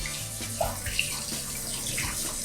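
Running water from a tap or shower rinses hair while it is combed, a steady continuous wash with faint splashes and no voices.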